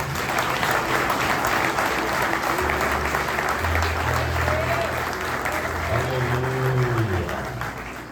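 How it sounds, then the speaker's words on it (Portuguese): A church congregation applauds together, a dense, steady wash of clapping that fills the space, with voices and music rising faintly beneath it. "Então dê uma salva de palmas para Jesus."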